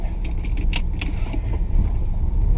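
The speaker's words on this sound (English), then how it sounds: "I'm just gonna keep driving" Steady low rumble of a car driving along a road, heard from inside the cabin, with a couple of brief jingling clicks like keys rattling near the start; nobody speaks.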